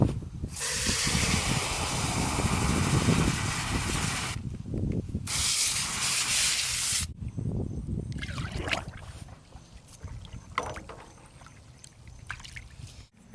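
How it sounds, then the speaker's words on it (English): An air-powered sprayer hisses as it sprays Lizard Skin undercoating on an 1989 Jeep Cherokee, with loud continuous bursts broken by short pauses, then a steadier, quieter spray and clicks toward the end. "And then we'll hook it up to the air source and spray that out."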